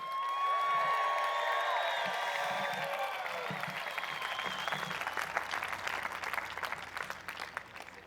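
A large seminar audience breaks into loud applause mixed with cheers and whoops, dense clapping that carries on steadily throughout, after a brief sustained tone at the start.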